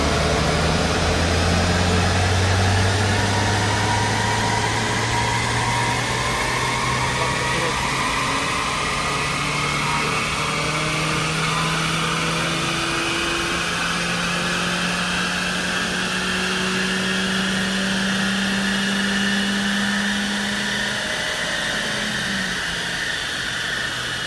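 Car engine on a rolling road dyno during a power run, a loud continuous roar with engine tones climbing steadily through the revs, alongside a broad whine from the rollers.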